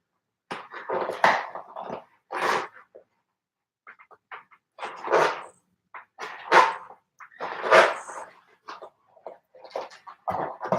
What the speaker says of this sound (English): Abe is a pure Boston Terrier